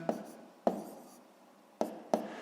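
Numbers are written on paper for a column multiplication, four soft pen taps with brief scratchy trails, uneven in spacing, quiet and close.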